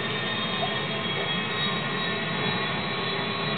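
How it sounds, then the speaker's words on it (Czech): A jet airliner's engine roars steadily and loudly in GTA V, a constant broadband rush with no speech over it. "Podívej se na to letadlo."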